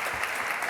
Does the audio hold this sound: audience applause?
yes